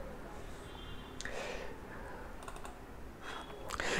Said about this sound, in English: Just use the command and spacebar to use the spotlight, and just type Sidecar.